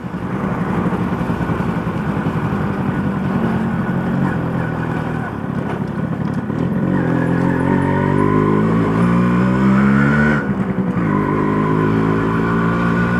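A Suzuki RC 100 Bravo motorcycle engine hums and revs steadily at night, its pitch rising and falling, a dense buzzing drone that stays loud throughout with no voices.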